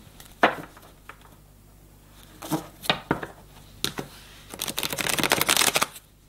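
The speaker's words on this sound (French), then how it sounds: "allez, 3 petites cartes de synthèse" A deck of tarot cards is shuffled close by in a few quick riffles and taps, ending in a longer, dense flutter of cards. No one speaks.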